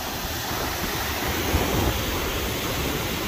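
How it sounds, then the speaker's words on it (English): Ocean water beside a pier where the Carnival Mardi Gras cruise ship is docked, heard as a steady broadband wash of surf mixed with wind noise, with no voices. "A little bit of ocean."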